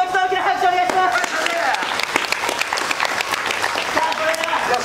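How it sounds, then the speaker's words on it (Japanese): An audience at an outdoor show at Seibu-en amusement park in Japan bursts into sustained, loud applause, with some faint musical tones and background voices underneath. "皆さんに判定していただく前に、もう一度大きな拍手お願いします。"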